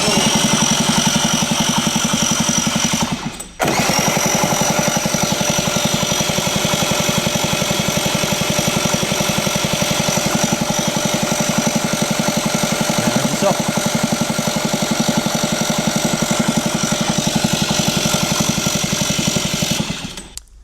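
Engine of an abandoned vehicle being turned over, a continuous rapid mechanical chugging that runs loud and steady for about seventeen seconds, stopping briefly near the start and cutting off at the end, with no voices.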